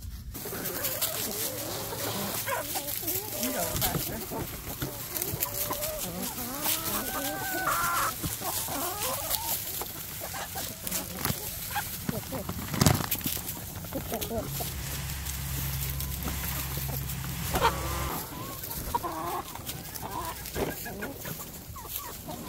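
Free-ranging backyard chickens cluck and murmur nearby on a winter day, with occasional louder squawks and a distant rooster-like call, while a person talks over the flock throughout.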